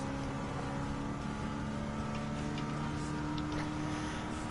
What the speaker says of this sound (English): God, this car makes a pretty sound.